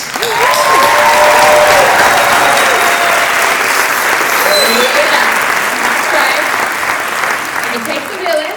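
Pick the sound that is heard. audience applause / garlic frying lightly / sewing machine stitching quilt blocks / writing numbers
audience applause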